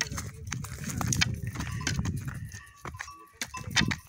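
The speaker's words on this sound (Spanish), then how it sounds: "Ven para acá, vamos a ver la oveja." Sheep gathered at a farm gate bleat in short bursts amid shuffling hooves and rustling, with a person talking nearby over the flock.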